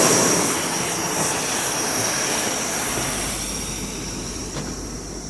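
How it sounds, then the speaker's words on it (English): Steady broadband roar of an Airbus A340-600 cargo aircraft's APU running on the ramp before departure, a constant loud drone with a thin high whine on top and no voices. "The ground power's been unplugged, the APU's running."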